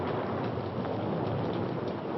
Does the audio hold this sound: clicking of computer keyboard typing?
no